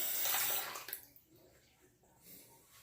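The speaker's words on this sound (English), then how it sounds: "I'm gonna rinse the razor again." A Clix razor is rinsed under running water, with a loud splashing rush that stops abruptly after about a second and leaves faint drips and quiet handling sounds.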